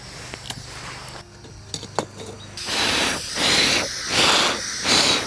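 A steady roaring hiss of an MSR WindBurner camping gas stove, pulsing louder in several broad surges as if buffeted by wind, with no voices.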